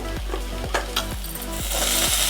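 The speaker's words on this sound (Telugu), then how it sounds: "ఇప్పుడు దీంట్లో రైస్ వేసేసుకుందాం." Rice fried in a pan with corn and paneer sizzles steadily up close while a spatula scrapes and stirs in an even rhythm about twice a second, with no voices.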